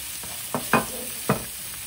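Garlic and onion fry in a pan for a creamy lasagna, a soft steady sizzle broken by a few short stirring scrapes close by.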